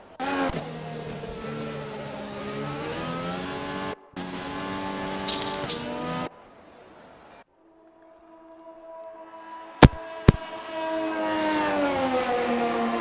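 Formula One cars in a racing video game, two McLarens and a Haas, scream past with rising and falling engine whines, a brief lull, a couple of sharp clicks, then more engines howling close by.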